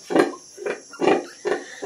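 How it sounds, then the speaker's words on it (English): Young piglets of a first litter, including a Duroc mix, grunting in a small farm piggery, five quick rhythmic grunts close up with no talking. "This is our first litter of pigs in our little piggery."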